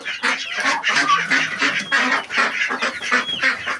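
A flock of geese, ducks and chickens being let out of their pen, honking and quacking nonstop in a dense, overlapping clamor close by throughout.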